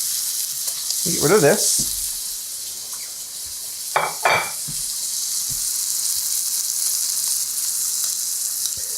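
Pork chops sear in a hot pan with a loud, steady hiss that fills the whole stretch, with a couple of short bursts of talk over it.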